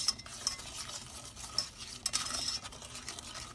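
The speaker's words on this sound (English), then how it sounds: "Once the butter is melted, you want to add white sugar and stir it in." White sugar being stirred into melted butter in a saucepan over medium heat, a steady scraping and swirling with a few sharp clinks of the spoon against the pan, close and fairly quiet, with no talking.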